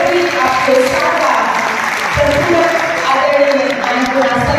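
Auditorium audience applauding to welcome Padma Shri educator Anand Kumar of Super 30, dense steady clapping throughout, loud and close, with a voice faintly underneath.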